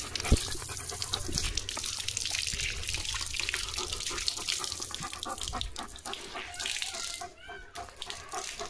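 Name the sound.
water running from tap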